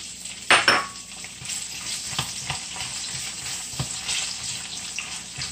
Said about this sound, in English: let's cook our onion for 3 minutes